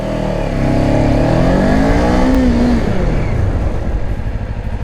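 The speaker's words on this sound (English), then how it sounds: "this bike stops pretty well for a single disc up in the front" A Kawasaki Ninja 500 sport bike roars up loud and close as it accelerates, its engine tone climbing steadily, then the note falls away into a rougher, fading rumble as it brakes to a stop.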